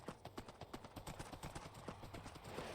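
Horse hooves clip-clopping in Minecraft, a quick steady rhythm of distinct close hoofbeats continuing throughout at moderate volume.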